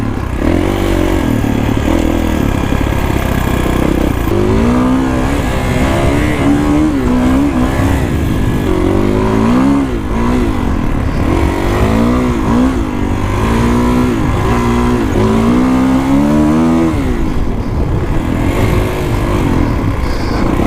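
A Kawasaki KX450X dirt bike ridden through the desert keeps up a loud, continuous engine note that repeatedly swells and falls as the throttle is blipped and the gears change, close to the rider with no talk.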